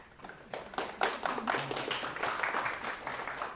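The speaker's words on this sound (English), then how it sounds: "clapping before the talk begins." Audience clapping before a talk begins, starting with a few scattered claps and quickly swelling into fuller, moderately quiet applause from a seated crowd.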